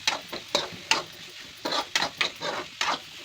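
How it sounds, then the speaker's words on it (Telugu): Ginger garlic paste fries in hot oil while a spoon stirs it in quick, irregular strokes, each one giving a crisp scraping sizzle up close. "అల్లం వెల్లుల్లి కొంచెం దీనికి ఫ్లేవర్కి పట్టేలాగా ఒక 2 మినిట్స్ వేపుదాం"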